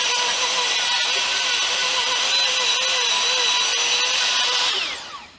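A power router cutting a cavity into a wooden guitar body, a loud steady high-pitched whine with slight wavering as the bit bites, winding down at the end.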